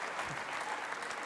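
A church congregation at a Denver service bursts into sustained, dense applause. Many hands clap steadily and fairly close, with no voices rising above the clapping.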